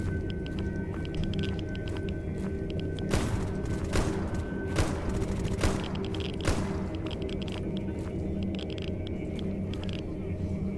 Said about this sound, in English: There's a lot of gunfire happening over there.